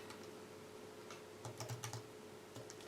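Faint computer keyboard keys are pressed in a short irregular cluster of clicks, quiet and close, used to move sprites in NextBASIC, with a low steady hum underneath and no speech.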